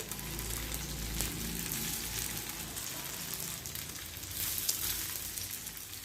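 Moong dal aluwadi slices shallow frying in oil in a pan, a steady, even sizzle and crackle running close by throughout, with no one talking.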